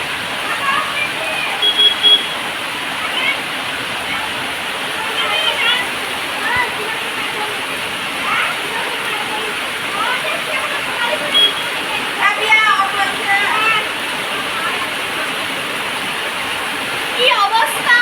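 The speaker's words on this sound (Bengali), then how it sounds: "এখন মানে বেরোবো এই টাইমে এখন মুষলধারে বৃষ্টি।" Heavy torrential rain pours down steadily outdoors during a stormy day, a dense continuous hiss with splashing water throughout, while a voice is heard over it.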